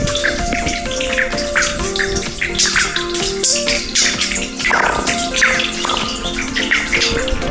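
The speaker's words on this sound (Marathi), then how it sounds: "हे बघ पाण्याचा आवाज वरून येतो आहे" Water pours down into a borewell from above, a continuous echoing trickle and splash with scattered drips, loud and close.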